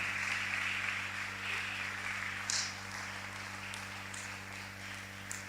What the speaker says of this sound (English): Let's clap for them as they come.